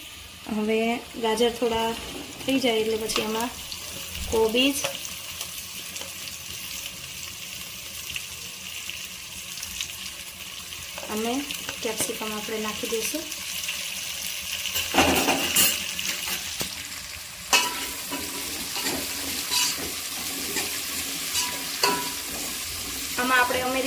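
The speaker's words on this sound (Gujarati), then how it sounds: "આ બધું શાકભાજી એકદમ ફાસ્ટ ગેસ ઉપર જ આપણે કરવાનું છે સાતળવાનું છે" Vegetables sauté over a high gas flame, a steady sizzle with stirring scrapes and clatter running throughout, while a voice talks in short bursts at the start and middle.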